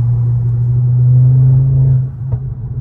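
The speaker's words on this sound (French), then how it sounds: "Les coups de fusil. Et on entend bien aussi le turbo et la 2 valves" A stage 3 tuned Ford Focus ST MK2 idles close by with a steady, deep engine drone. The drone eases slightly near the end, where one faint, short pop cuts through.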